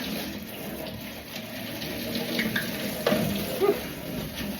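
Hot water runs steadily from a tap into a sink, producing a continuous splashing hiss with a few louder gurgles and drips near the end.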